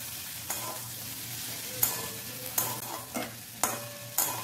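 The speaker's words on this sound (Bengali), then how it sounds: "আলুটা দেওয়ার পরও আবার একবার ভালোভাবে এটাকে নাড়াচাড়া করে মিশিয়ে দেবো" A spatula scrapes and knocks in a pan as ridge gourd and moong dal are stirred together with fried potatoes, with several sharp clacks over a steady low sizzle.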